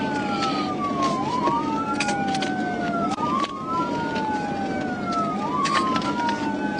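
A police car siren wails continuously during a vehicle pursuit, its pitch sweeping slowly up and down in long repeating cycles, loud and close over steady road noise.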